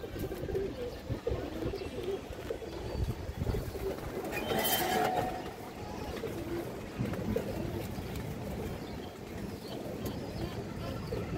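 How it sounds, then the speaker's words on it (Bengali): Silver khaki pigeons cooing softly among a group of pigeons, low murmuring coos running steadily throughout against a busy, noisy background, with faint talk mixed in. "এটা সিলভার খাকি কবুতর দর্শক, এই দেখেন।"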